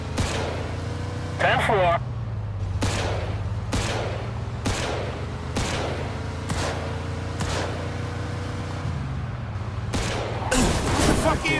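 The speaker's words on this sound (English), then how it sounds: "Got some nut job here shooting a gun" Gunshots ring out at a steady pace in Mafia 2, about ten sharp, loud cracks spaced roughly a second apart over a low car engine hum, with a radio-style voice speaking briefly.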